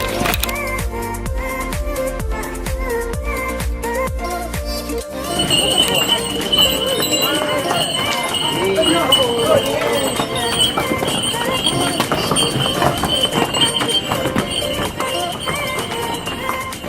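A donkey's hooves clip-clop in a steady rhythm on hard ground in Santorini, joined by a loud whinny-like bray and busy background noise with people talking.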